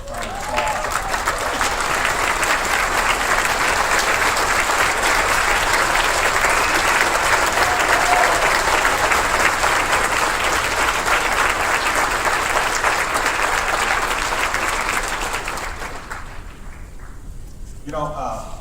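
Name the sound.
audience applause for a group standing up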